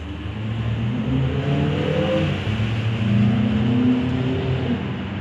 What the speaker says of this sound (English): there is a ton of people going by in cars